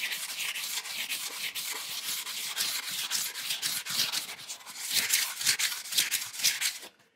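Grinding tape rasps back and forth against the edges of a glazed pottery piece in steady, close, rhythmic strokes that continue for several seconds and then stop.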